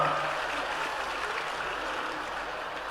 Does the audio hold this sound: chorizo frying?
no